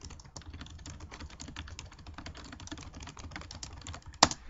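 Computer keyboard typing: rapid, irregular clicks and taps run steadily throughout at close range, ending with one sharper, louder click near the end; no voices.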